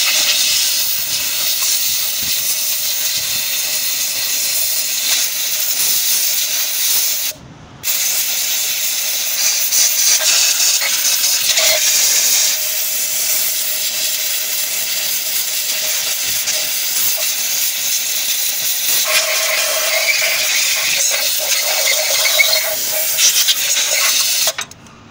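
A compressed air line blows across a Morris Minor cylinder head, a loud continuous rushing hiss held for most of the time with one short break near the start, with no talk.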